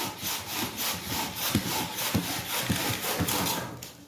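A hand saw cuts through wood at an angle in steady back-and-forth strokes, each stroke a rasping scrape with a rhythmic pulse, close and clear with no talk.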